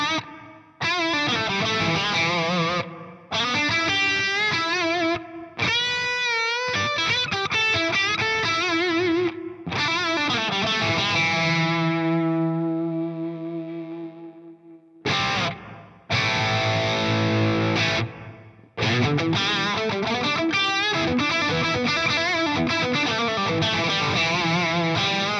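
An electric guitar runs through a Boss RV-500 pedal, its delay blended into the reverb: distorted chords and single notes ring out with repeating echoes and long washing tails that swell and decay between loud bursts of playing.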